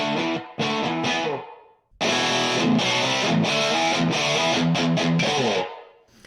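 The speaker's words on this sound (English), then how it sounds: "a software emulation of the 80s Marshall guvnor overdrive" Crunchy overdriven electric guitar through a software emulation of an 80s Marshall Guv'nor overdrive, maxed out, playing loud chords with short pauses, a thick distorted tone ringing out and cutting off between phrases.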